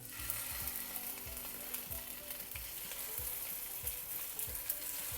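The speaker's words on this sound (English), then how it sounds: "Now we'll pan fry our fish." Fish frying in a pan over medium-high heat, a steady close sizzle and spatter with regular soft knocks, no talking.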